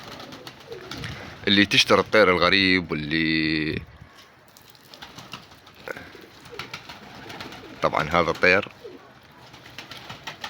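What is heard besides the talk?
flying pigeons cooing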